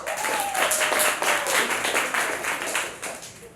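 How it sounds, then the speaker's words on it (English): Audience at a comedy show clapping in response to a comedian, a burst of moderately loud, somewhat uneven applause with separate claps audible, continuing throughout and fading slightly near the end. "anyone here who has studied English, please give me a clap."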